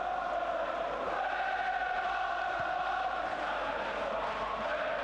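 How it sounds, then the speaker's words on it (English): Football crowd at Villa Park in the West Midlands for a 1988 Division 1 match between Aston Villa and Arsenal, a steady distant roar and murmur filling the stadium without pause. "Good seasonal crowd in a splendid stadium in the West Midlands."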